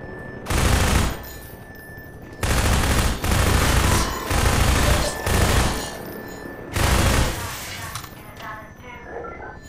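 Assault rifle fire in Half-Life 2, loud sustained bursts of rapid automatic shots repeating several times with short gaps between them.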